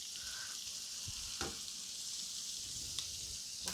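Mango BBQ shrimp sizzle steadily in a nonstick pan, a continuous close frying hiss with a few faint clinks of stirring and no voices.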